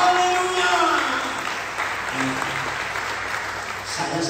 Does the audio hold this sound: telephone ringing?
no